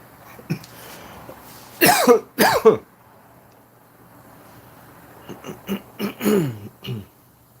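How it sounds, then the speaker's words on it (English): Several close, sharp coughs in bursts: a pair early on, then a cluster of smaller coughs and throat-clearing near the end, separated by quiet. "Why is my coughing never ending?"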